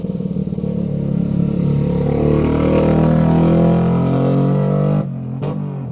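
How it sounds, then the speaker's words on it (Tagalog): Big, loud-voiced motorcycles rumble past at close range outside a shop, a dense steady engine roar with low throbbing that holds for several seconds before cutting off abruptly near the end. "Yan po si Papi, nakikinig lang po sa mga motorsiklo na malalaki ang boses."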